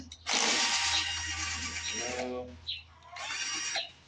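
A bolt being worked loose on a small Murray engine-powered machine, with a burst of loud ratcheting, rasping metal noise near the mic, then a brief pause and a second shorter grinding burst, voices speaking lightly in between.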